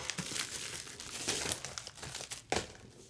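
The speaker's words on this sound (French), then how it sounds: "Small pocket, petit paquet, enveloppe matelassée" A padded envelope crinkles and rustles as it is handled and opened, with scattered close crackles and a sharper tearing burst near the end, heard alone.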